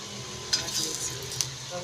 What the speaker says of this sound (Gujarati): હવે બધી પૂરી આ રીતના તળી નાખીશું